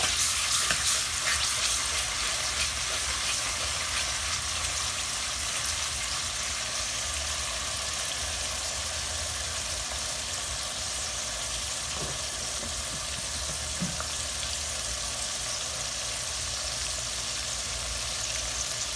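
Steady, dense sizzling of something frying in a hot pan, continuous and close throughout, with a few faint clicks near the end.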